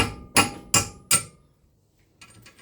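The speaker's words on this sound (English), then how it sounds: "The amount of bopping that was required to make it go in." Three sharp, evenly spaced hammer blows ring out as a metric 75mm wheel stud is driven into an MG wheel hub, each strike loud and metallic with a short decay, followed by quieter faint clatter.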